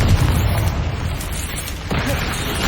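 A Confringo blasting spell explodes in Hogwarts Legacy, a loud, dense boom that rumbles and fades, then a second burst hits near the end, with no voices.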